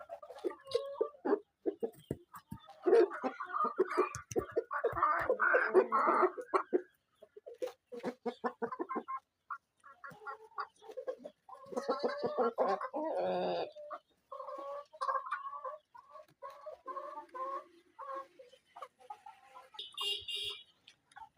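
Adult roosters on a farm in Ullapara, Sirajganj cluck and call in overlapping, uneven bursts, fairly close and moderately loud, with short quiet gaps between flurries.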